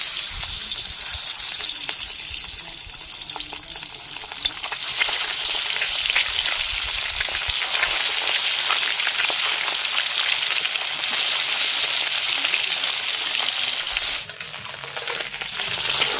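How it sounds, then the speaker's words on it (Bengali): Duck eggs fry in oil in a pan, giving a loud, dense, continuous crackling sizzle that swells after a few seconds and dips briefly near the end, with no voices. "ডিমগুলো তেলের উপরে দিয়ে দেবো।"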